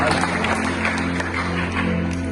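A church congregation claps for the Lord, a dense, steady patter of many hands filling the room over a low constant hum, with voices mixed in.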